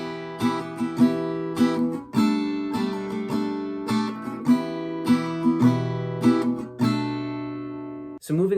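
A strummed acoustic guitar works through pre-chorus 2 of a song in its live-version arrangement, with steady rhythmic chords ringing close and clear and no voices over them.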